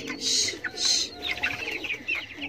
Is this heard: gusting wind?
no